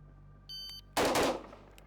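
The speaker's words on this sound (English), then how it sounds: "Next up, scan position again, but we're going to fire 2 rounds." Two rifle rounds fired from the scan position in quick succession, a loud sharp blast with a short echoing tail, preceded by a faint electronic beep.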